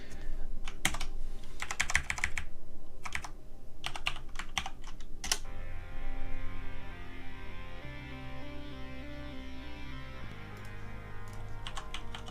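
Keys clack on a computer keyboard while a password is entered, with quick irregular taps in clusters, then a steady low electronic hum with shifting tones continues in the background.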